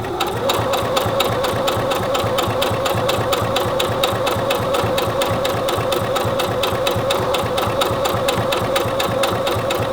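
A Singer Heavy Duty 6800C electronic sewing machine stitches at a fast, steady pace, its rapid even needle rhythm running continuously and close up, smooth and fairly quiet, with no talking.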